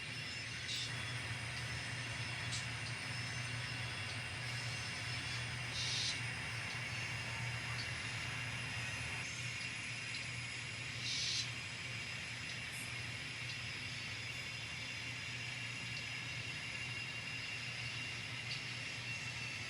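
An N scale model train runs steadily along the main line, a continuous low rumble and whirring hum with faint clicks over the rails, fairly close and without speech.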